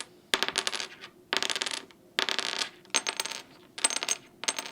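Guitar strings ringing over a bone nut on a PRS-style guitar, plucked six times in a row; each bright, metallic note rings out clearly and alone for about a second before the next.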